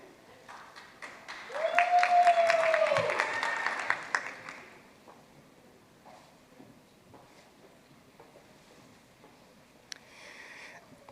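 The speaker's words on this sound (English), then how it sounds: "Please join me in another round of applause for all of our master's graduates." A crowd at a university commencement breaks into applause that swells and fades over a few seconds, with a loud cheer or whistle at the start, then quiet murmuring.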